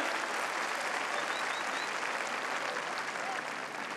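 Sustained, loud applause from a huge arena audience at the Viña del Mar Festival comedy show, a steady, dense wash of clapping with no pauses, fading slightly at the very end.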